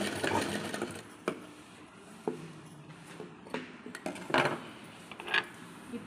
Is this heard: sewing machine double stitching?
yes